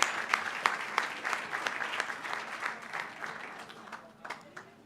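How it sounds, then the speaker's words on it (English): A school board meeting audience claps steadily for several seconds, a dense patter of hands with a few sharper claps near the start that thins out toward the end. "Let's give all of our Richardson Tigers a big round of applause."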